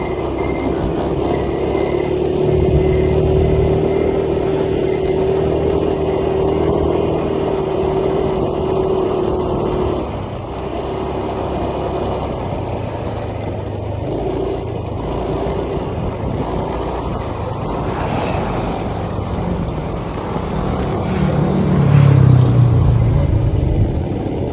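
A motorcycle rumbles steadily close by, its engine droning and shifting pitch, with a brief rise in revving near the end.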